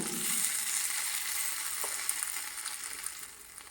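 Grated coconut is stirred into a pot of koottu curry, giving a soft sizzle with light scraping that gradually fades toward the end.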